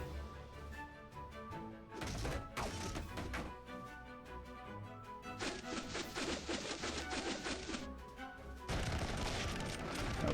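A unit volley of gunfire in the strategy game Ravenmark, heard as several loud, dense bursts of crackling shots and thuds that start and stop abruptly across the clip, with no talking.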